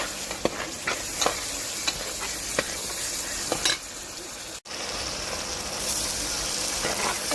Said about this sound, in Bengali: মশলাগুলো এখন ভালো করে নেড়ে দেবো